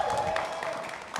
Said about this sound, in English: If you can please give her a round of applause.